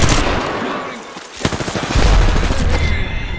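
Rapid gunfire bursts in the Apex Legends video game rattle loudly, with a brief lull before dense automatic shots resume.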